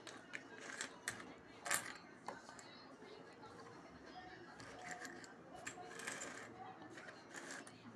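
Coins handled and dropped at a Tamil coin seller's stall, including old map-printed and picture-printed coins and large rupee coins, with a run of faint metallic clinks and one sharper chink, over quiet room noise.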